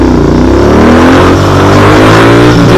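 Royal Enfield GT 650 motorcycle engine revving loudly up close on the road, a steady heavy roar with rising and falling pitch as the throttle is worked, no talk over it.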